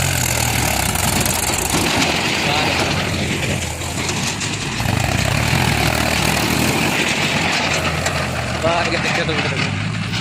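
A JCB Eco Xcellence machine and a Mahindra tractor working outdoors, their diesel engines a loud, continuous droning rumble throughout, with voices faintly mixed in.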